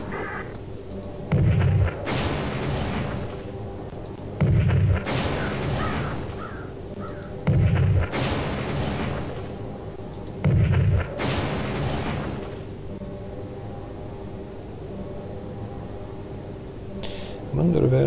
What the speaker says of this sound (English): The artillery keeps firing.